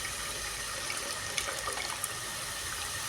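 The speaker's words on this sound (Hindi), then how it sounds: "तो इसमें इमली का पानी ऐड करेंगे।" Tamarind water poured into a simmering fish curry, a steady close splashing pour with a few brief droplet patters, no speech over it.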